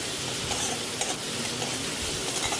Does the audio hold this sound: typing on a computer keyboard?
no